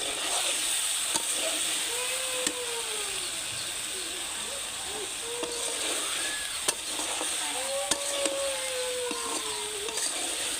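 Pangas fish curry cooked down dry in a pan, with a steady close sizzle and hiss throughout, occasional stirring clinks, and a person talking over it.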